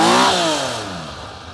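A warm 1983 Honda CBX 1000 six-cylinder motorcycle engine, recorded close to the exhaust, blips to a loud, smooth, high rev and then winds down in a falling howl over about a second and a half.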